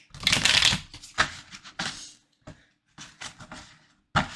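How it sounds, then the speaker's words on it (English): Playing cards riffle and snap in several quick bursts, a brisk shuffle with short pauses between each pass, close and crisp. "So we're going to shuffle your deck."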